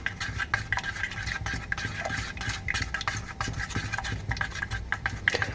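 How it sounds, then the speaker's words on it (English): Abrasive paste mixed with mineral oil is stirred in a pot over heat, a continuous close scraping and clinking of a utensil against metal in quick repeated strokes, with no talking. "I'll continue to stir, and we'll come back once I removed it from the heat."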